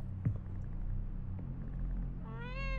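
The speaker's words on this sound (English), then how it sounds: "Oh, it's a cat. It's supposed to be a cat." A cat in a horror video game gives one drawn-out, rising meow near the end, heard over a low steady ambient rumble.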